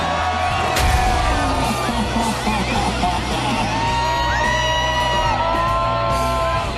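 A wrestling crowd at a live show cheers, whoops and yells continuously and loudly, a dense roar of many voices with scattered shouts and a thump or bang near the start.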